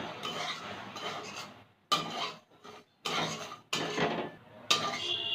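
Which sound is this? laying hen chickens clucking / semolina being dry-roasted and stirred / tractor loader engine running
semolina being dry-roasted and stirred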